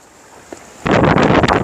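Seaside wind by the coast suddenly gusts into the microphone as a loud, close, buffeting roar after a quiet start, lasting about a second, with no talking.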